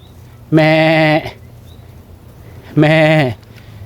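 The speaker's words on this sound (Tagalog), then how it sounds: "Yung mga kambing dito, mga wild po yan." Two loud, close bleats from wild goats on an island mountainside, each lasting about half a second with a wavering, nasal tone, separated by a pause of roughly a second and a half.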